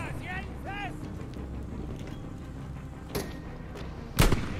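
Sniper rifle fire in the WWII shooter Battlefield V, a single sharp, loud crack near the end, preceded by a fainter report, over steady in-game ambience.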